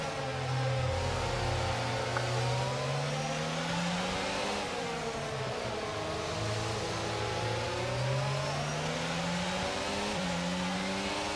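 Formula 1 race car engine in the F1 2022 video game, a steady loud whine that rises and falls through gear changes, continuous for the whole stretch with no talk over it.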